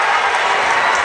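A high school basketball gym crowd cheers and claps loudly after a one-handed slam dunk, a dense, continuous roar of applause.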